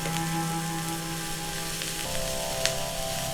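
Sliced onions fry in a pan for a mashed yam dish, giving a continuous soft sizzle with a faint steady hum beneath and no talking.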